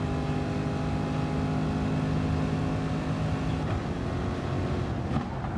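Race car in Gran Turismo Sport running flat out down a straightaway: a steady, loud, droning engine note holding a constant pitch, with a slight shift in tone near the end and no talking.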